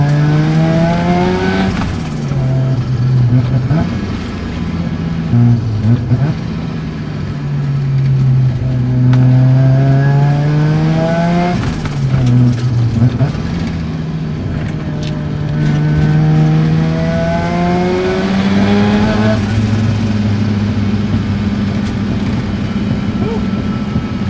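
A rebuilt Mazda RX-7 FD rotary engine pulls hard on a mountain touge road, loud and close, climbing through the revs, dropping at each shift, then revving back up in repeated cycles.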